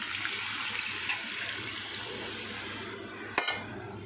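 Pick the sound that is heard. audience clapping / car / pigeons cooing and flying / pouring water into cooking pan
pouring water into cooking pan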